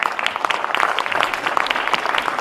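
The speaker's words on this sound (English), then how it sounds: "A round of applause for them, please." Conference audience at a G20 meeting applauds the panelists, a short burst of distinct, fairly close hand claps with no talking.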